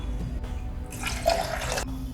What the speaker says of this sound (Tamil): இதில் மெஷர்மெண்ட் கப்பில் ரெண்டு கப்பு தண்ணி சேர்த்துக்கலாம்